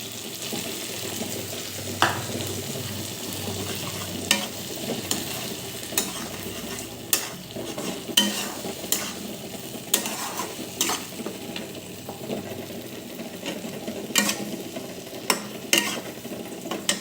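Tomatoes sizzle softly in a pan, half fried, while a spatula stirs and scrapes, tapping the pan now and then.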